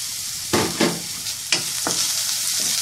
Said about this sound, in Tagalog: i-add naman natin yung ating onion